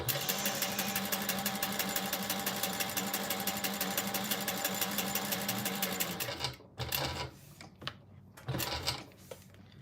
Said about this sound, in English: you're going to top stitch along the folded edges at a 3/8 inch